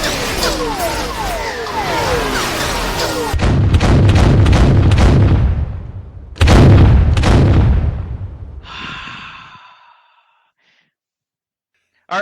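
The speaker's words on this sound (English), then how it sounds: "Are we ready to fire the cannons?" Cannons fire in a rapid series of heavy booms, loud and close, with rumbling decay between blasts, followed by a fading tonal ring and then near silence before a sudden final burst.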